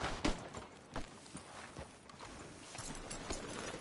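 Horse hooves clip-clop at a slow walk outside a sheriff's office in a western video game, a few soft irregular thuds over faint ambient background.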